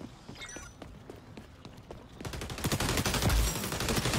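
M4 rifle in the shooter XDefiant: faint scattered shots give way to dense, loud rapid-fire bursts that grow stronger and continue to the end.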